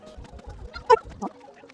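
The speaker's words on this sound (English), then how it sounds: "That's a handsome rooster." A caged rooster at a park clucks nearby, a few short throaty calls with one louder squawk, amid low background rumble and no clear talk.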